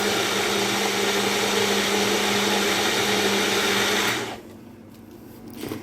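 A kitchen blender blitzes vegetable soup with a loud, steady whirring roar for about four seconds, then cuts off abruptly, leaving quiet room tone and a faint clatter at the end.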